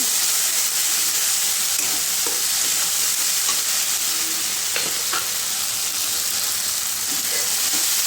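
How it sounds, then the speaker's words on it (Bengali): Mustard and onion fry steadily in hot oil for a tilapia fish curry, a continuous dense sizzle with occasional faint stirring scrapes and no talking. "এমনিতে তো সর্ষে বেশি ভাজতে হয় না, যেহেতু একটু পেঁয়াজ দেওয়া রয়েছে, তো আমি একটু ভেজেই নিচ্ছি একটু ভালো করে"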